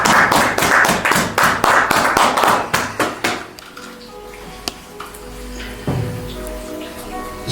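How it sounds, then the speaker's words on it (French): A church congregation applauds, a burst of dense hand clapping that fades after a few seconds into a quiet room with scattered shuffles and taps. "nous acclamons la parole de Dieu"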